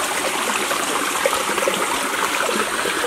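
A water stream flowing at a farm waterside in Liberia, a loud, continuous close rush and trickle with no voices.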